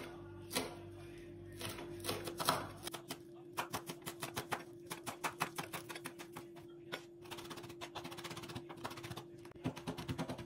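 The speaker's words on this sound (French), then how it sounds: "je vais hacher du persil frais" Fresh parsley is chopped on a board for Moroccan-style sardines, a fast run of crisp knife taps that starts after a brief pause and continues steadily, fairly close.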